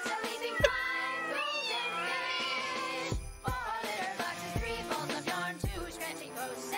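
Several cartoon cats from the Elf Bowling video game meow in overlapping, drawn-out cries, close and loud against a steady musical backing with a faint jingle.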